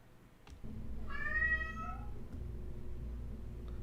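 A house cat gives one clear, drawn-out meow close by, rising and falling over about a second, set against a low steady background hum with a couple of faint clicks.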